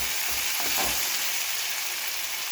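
Potatoes and eggplant frying in a pan give a steady close hiss and sizzle, with a few soft stirring scrapes early on, no voices.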